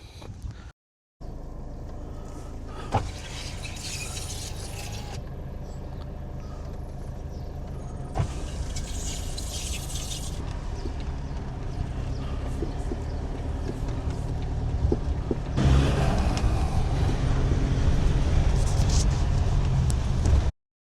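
Camper van driving along a coastal road in Scotland toward Peterhead, heard from inside: a steady low engine and road hum that grows louder and rougher toward the end, with no talking.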